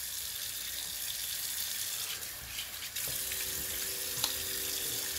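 Running tap water rinsing a face at a sink after a shave, a steady close hiss of flowing water with a slight shift in tone midway and a faint clink near the end.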